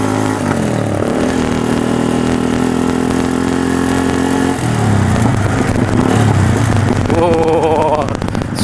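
A freshly built Yamaha Scorpio bobber motorcycle engine runs loud and close, idling with a throaty rumble, then the pitch shifts as it revs and settles, with a faint voice near the end.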